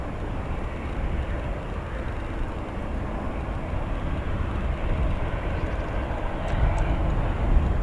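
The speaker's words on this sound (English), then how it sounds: "our next heavy arrival, a Boeing 787-10 Dreamliner from Munich" A Boeing 787-10 Dreamliner arriving from Munich at O'Hare passes as a low, rumbling jet roar at moderate distance, growing a little louder over several seconds, with no voices.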